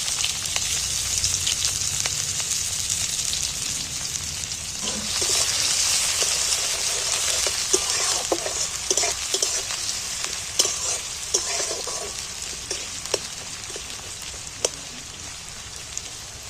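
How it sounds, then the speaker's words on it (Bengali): Chopped onions go into hot oil and fry with a steady, crackling sizzle, louder and busier from about five seconds on, with occasional sharper pops and stirring clicks, no voices. "আমি কাটা পেঁয়াজগুলো তুলে দিচ্ছি তেলের মধ্যে"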